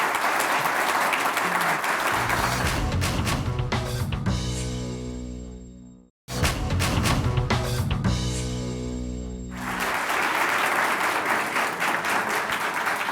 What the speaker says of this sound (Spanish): Un aplauso para la candidata.